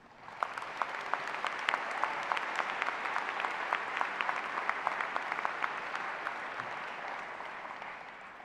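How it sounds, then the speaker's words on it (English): Sustained applause from a large audience at a Franklin & Marshall College commencement ceremony, dense steady clapping with sharp individual claps standing out, holding loud and even for over eight seconds with no voices on top. "Let's give another round of applause to all of today's honorees."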